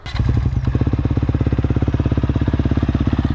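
Brand-new 2021 Honda CRF motorcycle starting for the first time, catching at once and settling into a loud, fast, even single-cylinder thumping that stays close and steady with no talking.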